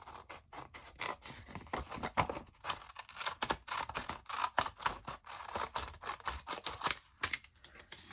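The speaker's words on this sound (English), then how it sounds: "you actually cut off part of the flap" Scissors cut through the flap of a paper craft envelope, a close, quiet series of crisp snips and rustles in an uneven rhythm, with no talking.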